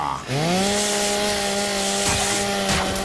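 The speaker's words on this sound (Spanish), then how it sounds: "Motosierra." A Gears 5 chainsaw revs up suddenly and then holds a loud, steady buzzing drone close by for a few seconds, with a rough grinding edge near the end.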